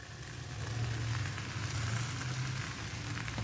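Chowmein sizzling as it hits hot mustard oil in a pan, a steady close hiss and crackle running throughout with a low hum underneath.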